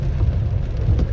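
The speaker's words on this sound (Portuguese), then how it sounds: "Muita chuva, hein?" Heavy rain falling in the São Vicente neighbourhood of Itajaí, Santa Catarina, a steady, dense low roar that stays loud and continuous throughout the short stretch with no voices.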